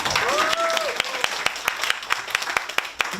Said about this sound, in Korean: 여자들이 박수 쳐야죠